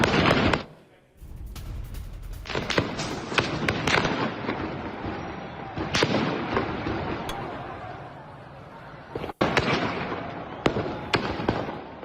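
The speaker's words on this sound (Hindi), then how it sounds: "आज भी देखिए गोलियों की तड़तड़ाहट" During street protests in Iran, dense bursts of gunfire crack and rattle in rapid irregular volleys, with sharp loud reports over a continuous background din and faint voices mixed in.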